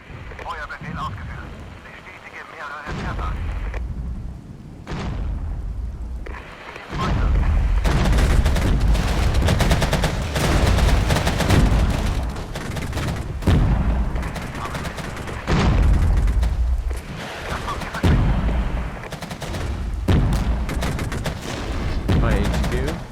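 Gunfire and explosions in the video game Regiments during a NATO night raid, with bursts of rapid shots and heavy booms coming in waves, loud and near, broken by short quieter gaps.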